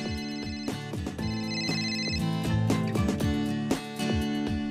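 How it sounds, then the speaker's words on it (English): A phone, made to ring by a GOkey keychain tracker, plays a loud, continuous melodic ringtone with a steady rhythmic beat, alone and with no talk. "your GOkey will make it ring."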